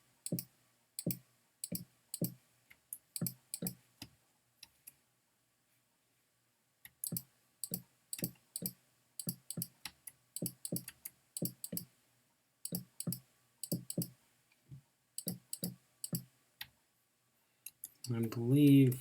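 Crisp computer mouse clicks sound while building in the GentleFarmer game, often in quick pairs and short runs with brief gaps, ending with a short muffled rumble.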